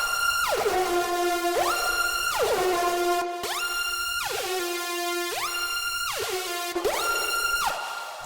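A screechy bass house siren synth patch built in Serum wails through repeated rising and falling sweeps, loud and bright with rich buzzy harmonics and a short gap between cycles, no voices.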